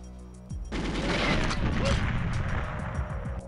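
A rocket launcher fires in the GoldenEye N64 video game: a sudden loud blast opens after a short quiet lead-in, followed by a sustained roaring explosion and rumbling debris that carries through to the end.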